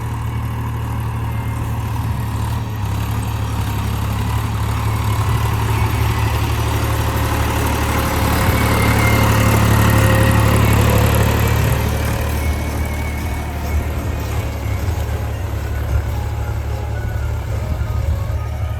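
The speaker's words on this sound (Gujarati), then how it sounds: "આ જો ટ્રેક્ટર હાલે રહ્યું" A tractor engine running on a farm near a rain-rutted field road, a loud steady low rumble that holds throughout and swells slightly midway, with no talking.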